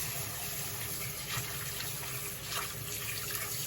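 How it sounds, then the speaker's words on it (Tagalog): Tap water running steadily into a bowl to soak dried hijiki seaweed in a home kitchen, a continuous close gush with slight splashy surges. "Ibababad po natin sa tubig"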